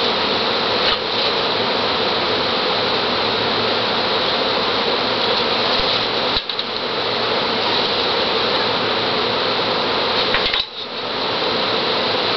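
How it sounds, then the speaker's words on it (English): A dense, continuous buzzing of many bees, loud and close, holding steady throughout with a couple of brief dips. "Nothing but bees."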